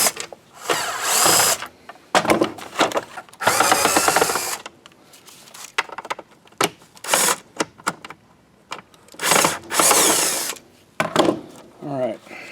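A power drill backs Phillips screws out of a Black and Decker Air Swivel vacuum, making repeated short whirring bursts of varying length separated by brief pauses.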